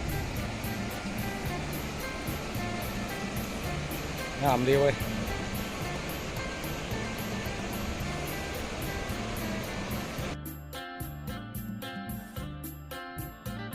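Tat Lo waterfall, also called Tat Sung, sends a steady, broad rushing roar of falling water that fills the whole scene, with a voice speaking briefly over it.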